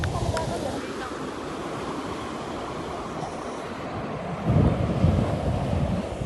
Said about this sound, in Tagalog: Ito dagat.